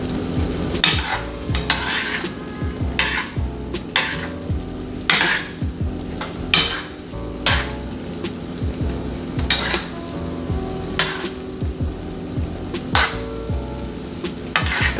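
Pork chops fry in butter in a pan with a steady sizzle under frequent sharp clicks and taps of utensils against the pan, coming at an irregular rhythm and heard up close.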